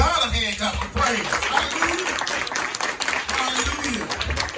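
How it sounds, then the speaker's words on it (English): Many worshippers at a Mother's Day church service keep up sustained applause and hand clapping in praise, steady and close, with a voice and some chuckling heard through it. "Let's give God a hand clap of praise."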